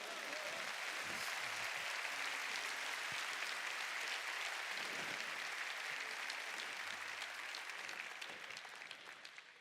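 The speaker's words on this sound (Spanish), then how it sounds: "Dale fuerte el aplauso al Señor." A large church congregation applauds in a broad, roaring swell of clapping heard from a distance, dense and continuous, with low hums of the hall beneath, fading slightly at the end.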